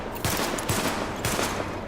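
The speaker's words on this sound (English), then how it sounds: "Open fire at the highlighted targets." Sidearm shots from a weapon test in The Division ring out in quick bursts, several sharp cracks over about two seconds against steady background game noise.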